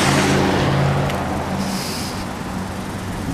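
A Ford car drives past on a street, a loud, steady engine and tyre rush that swells near at the start and slowly fades as it moves away.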